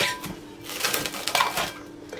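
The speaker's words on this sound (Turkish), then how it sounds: "Üzerine streç filmi çekiyorum." Cling film being pulled and stretched over a bowl of soft dough in a home kitchen, a close crinkly plastic rustle with sharp tearing snaps, steady for a couple of seconds with no talking.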